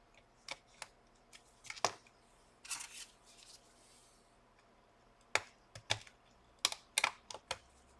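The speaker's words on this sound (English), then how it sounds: "Now both of the keys are clicking" Keys on a Lenovo IdeaPad 330S laptop with a damaged touchpad click close up in short, irregular clusters, along with a brief shuffle of handling noise and no talking.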